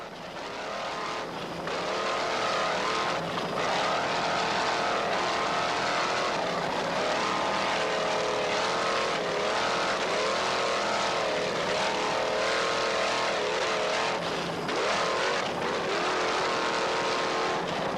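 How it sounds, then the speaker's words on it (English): Offshore racing powerboat engines from the 1995 Offshore Powerboat Classic at Harbor Town roar loudly and steadily, with pitch rising and falling as boats bounce over bumpy water, a continuous, near, droning motor note with no talk. "That motor sounds excellent."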